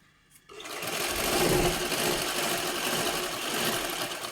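A sewing machine stitches a saree pico fall, starting after a brief quiet moment and then running as a steady, loud mechanical whir with a fast rhythmic chatter, close by and without talk.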